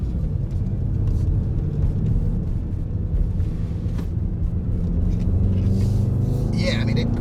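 A 2021 Mercedes-AMG GLE 63 Coupe swings a full 180 degrees around a roundabout. A low engine and road rumble carries steadily from inside the cabin beneath a voice.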